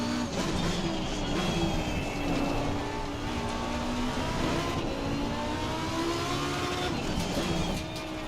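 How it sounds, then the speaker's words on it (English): Mazda MX-5 Cup race car engine in a sim race at the Nordschleife, droning loudly at high revs with slight pitch swells and dips, bouncing against the rev limiter throughout. "Listen to that rev limiter."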